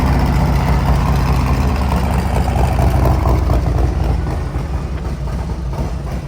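A heavy 2024 Harley-Davidson Road Glide CVO motorcycle with a Stage 2 build and D&D exhaust idles loudly up close, a deep, throbbing low rumble that stays steady and eases slightly toward the end.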